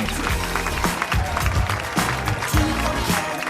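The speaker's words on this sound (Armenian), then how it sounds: "Ծափահարություններ բարեկամներ։" A crowd applauding the venue staff at a 60th birthday celebration held at the Imperial complex, dense continuous clapping close and loud throughout.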